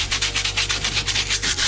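Quick back-and-forth scrubbing of a Dollar Tree sanding block over a vase, rhythmic rasping strokes close up with no voices.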